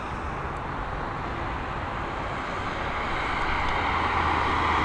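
An Aer Lingus Airbus A320neo arriving at Dublin Airport from London Heathrow makes a steady jet roar that starts distant and swells gradually, with no voices.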